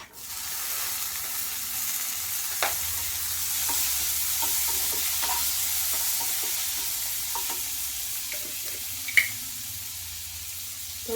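Onion and tomato sizzle steadily in hot oil in a pan, a continuous broad frying hiss with scattered sharp stirring clinks and scrapes, one louder knock near the end, no voices.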